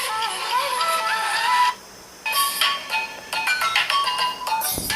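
An Asus Zenfone Max Pro M1 plays a melodic tune through its speaker while sitting inside its box, giving bright, fairly loud tones with a brief drop-out partway through.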